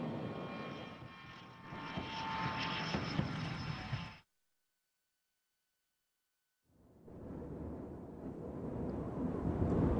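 A military spy plane comes in to land with a loud roaring jet engine rush, broken by a few seconds of complete silence before the roar returns just as strong.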